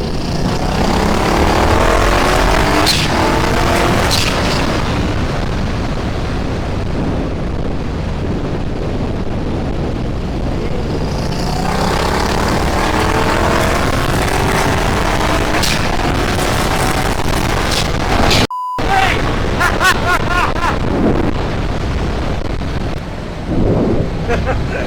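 A twin-turbo Triumph Bobber motorcycle accelerating hard, its revs climbing in rising sweeps beneath heavy wind buffeting, loud and close throughout with a brief dropout.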